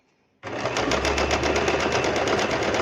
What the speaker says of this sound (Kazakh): Мінекей екі осы шетін былай тігіп шығамыз.